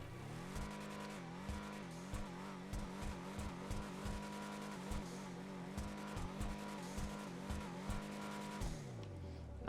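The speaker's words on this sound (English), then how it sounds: "let's go ahead and rev it up here, do a little sound test." A Schyster Deviant muscle car's V8 in GTA Online revs repeatedly, a rhythmic series of throaty blips rising and falling in pitch, then winding down to idle near the end, with no talking.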